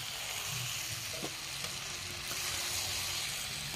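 Paneer with capsicum and onion sizzles and fries in a kadhai as a ladle stirs it, giving a steady close hiss broken by a few brief scraping knocks.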